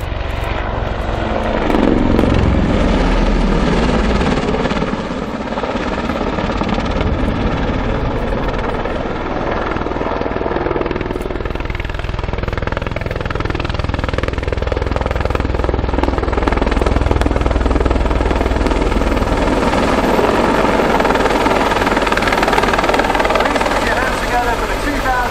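Boeing AH-64 Apache helicopter hovering close in at the Dunsfold flying display: loud, continuous rotor thump and turbine roar fill the whole stretch, with a public-address announcer talking over it.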